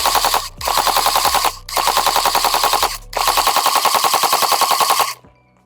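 A Tokyo Marui MK46 MOD.0 next-generation recoil airsoft light machine gun fires four long sustained bursts of rapid mechanical clatter, loud and close, separated by short pauses, with no voices.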